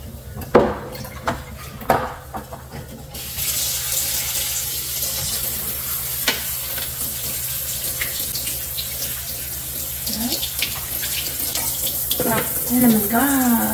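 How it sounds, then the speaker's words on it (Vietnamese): A cooking pot is rinsed under cold tap water in a home kitchen, a steady close stream of running water with a few clanks of the pot at the start and a voice talking briefly over it. "Đổ ra mình rửa là nước lạnh nha."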